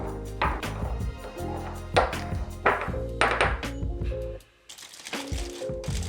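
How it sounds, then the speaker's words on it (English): Toasted caraway seeds are crushed in a small mortar and pestle, making rhythmic gritty grinding and pounding bursts, with a short pause before the crunching resumes. Soft music plays underneath. "In the mortar and pestle, crush the toasted caraway seeds and set them aside"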